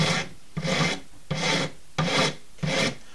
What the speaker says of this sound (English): Again, just filing that way.